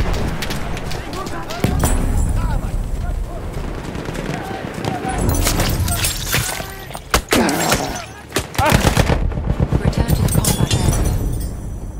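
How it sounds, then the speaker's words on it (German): Enemy machine gun fire in the World War I shooter Battlefield 1, bursts of automatic shots and booming blasts building toward a loud rattling stretch near the end, with voices talking over the chaotic battle din. "Da, feindliches Maschinengewehr."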